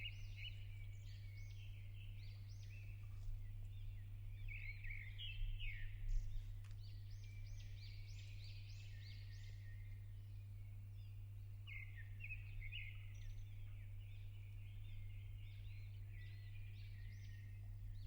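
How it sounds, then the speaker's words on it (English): A recorded birdsong soundscape plays: scattered high chirps and short song phrases come in bursts over a constant low electrical hum, faint and distant, with no voices. "Bird song."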